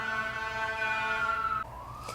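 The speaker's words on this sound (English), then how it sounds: "I apologize for the siren happening right now, by the way." An emergency siren sounds outside, a steady wailing tone that holds and then abruptly shifts pitch, moderately distant and muffled over faint background rumble, with no speech.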